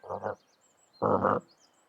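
Toads by the water in tabletop game ambience, two short bursts of croaking about a second apart, close and clear over a quiet background with faint chirps.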